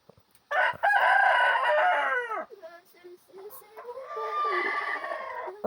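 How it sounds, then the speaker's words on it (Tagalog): A rooster crows loudly twice in long drawn-out calls, with hens clucking faintly around them. "Grabe kasaba ang manok dire."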